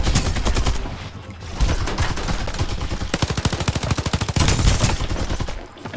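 Loud automatic gunfire in the video game Farlight, rapid bursts of shots firing in quick succession with short gaps, dense and close throughout.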